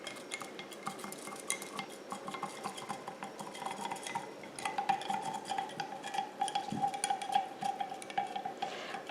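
A metal utensil scrapes and clinks steadily against a pot while stirring lye into water until it dissolves for soap making, with a faint ringing tone and light splashing, no voices.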